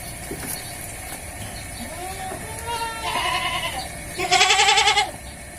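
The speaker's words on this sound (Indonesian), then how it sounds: "Dan di sini gemuk-gemuk kambingnya." Plump Kacang goats at a farm bleat several times, first in short calls and then in louder, wavering bleats near the end, with no talking.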